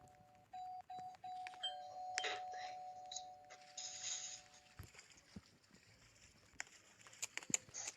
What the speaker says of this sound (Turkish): Zil çalıyorum ya.